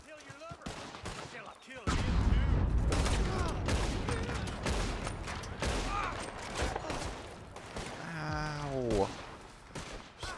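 Gunfire in Red Dead Redemption 2 online play: a rapid burst of loud shots and cracks fills most of the stretch, with mechanical clicks and a brief voice near the end.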